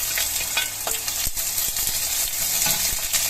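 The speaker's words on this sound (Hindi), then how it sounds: "अब हम इसमें डालेंगे अपनी प्याज और शिमला मिर्च," Onion and capsicum sizzle and fry steadily in a hot kadai for a kadai paneer, with a continuous close crackle and occasional stirring scrapes, and no talking.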